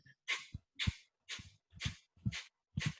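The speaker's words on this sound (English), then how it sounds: "So I'm pumping my belly and exhaling through the nose rapidly." Six rapid, forceful nasal exhalations in a steady rhythm, each a sharp breathy whoosh with a short thump, close up and alone.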